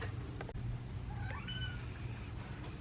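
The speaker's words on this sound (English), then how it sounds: "Sorry if you hear my cat meowing." A cat meows once, a clear rising-and-falling call heard fairly close, over faint room noise with a brief click before it.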